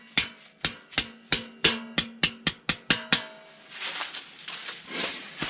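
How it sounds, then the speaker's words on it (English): Stakes are hammered into the ground to secure a Gstove inside a lavvo tent. About ten sharp metallic blows come in a quickening rhythm, each ringing briefly, followed by softer rustling and handling noises. "I hammer these things in"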